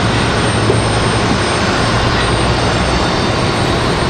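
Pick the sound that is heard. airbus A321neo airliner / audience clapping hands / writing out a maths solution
airbus A321neo airliner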